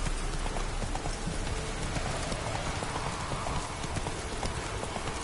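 Roach the horse trots in The Witcher 3, with quick rhythmic hoof clops mixed into a dense, steady wash of game ambience that sounds like rain, continuous throughout and with no voices.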